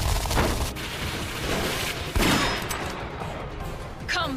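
Dense, continuous gunfire and artillery booms from the samurai action game Sengoku Basara Samurai Heroes, a loud fusillade with a heavier blast about midway and more shots near the end.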